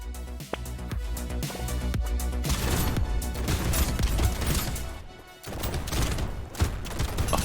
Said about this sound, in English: That means these shotguns are actually pretty deadly.